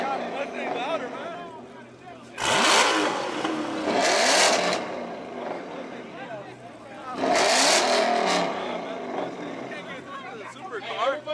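A Ford Mustang with an aftermarket exhaust at an exhaust battle revs hard in two loud, roaring bursts followed by a rumbling idle, with onlookers chatting throughout.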